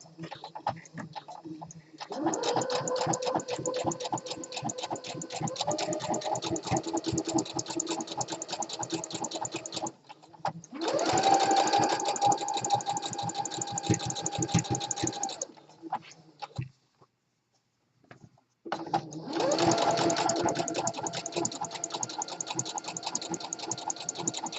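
Sewing machine stitching elastic into a fabric waistband, running in three long continuous bursts of rapid needle chatter separated by short pauses, close and steady with no talking.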